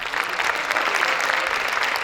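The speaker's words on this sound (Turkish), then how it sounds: "Biz de sizi aşkla alkışlıyoruz." Audience applause at a live concert, a dense continuous wash of clapping hands from a crowd, steady and fairly loud throughout.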